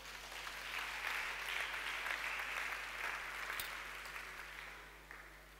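A church congregation at a Sunday service claps in sustained applause lasting several seconds, fairly even and gradually fading toward the end, heard from a distance without speech.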